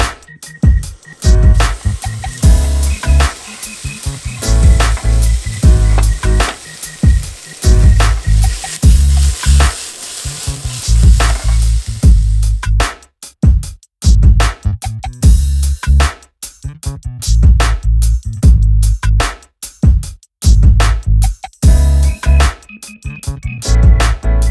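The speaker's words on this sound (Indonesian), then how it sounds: "Jadi bakar daging dulu, terus dagingnya kita pisahin" Meat sizzles loudly on a camping stove grill at a campsite at the foot of a mountain, with sustained frying crackle broken by short pauses and stirring, close and dominant throughout.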